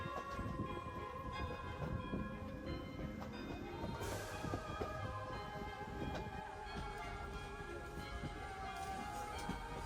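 Train on the Oigawa railway in Japan, heard from aboard as a steady, loud rumble of running gear with rail clatter and tonal hum, continuous throughout with a brief hiss partway.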